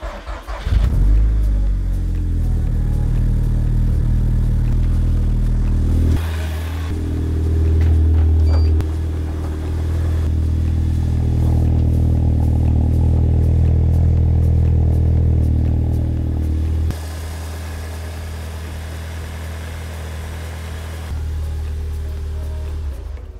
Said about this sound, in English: We'll go start this car just now.